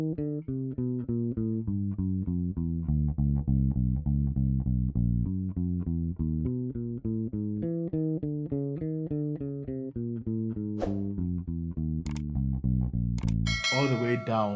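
Bass guitar plays a semitone finger exercise, a steady run of evenly spaced single notes climbing back up the neck, loud and close, ending with a brief scrape.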